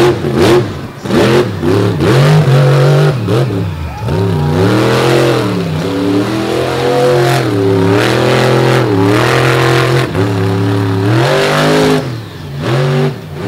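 A monster truck engine revs hard during a beach run, loud and close, rising and falling in repeated surges of acceleration.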